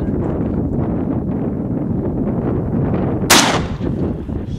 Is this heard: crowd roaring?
no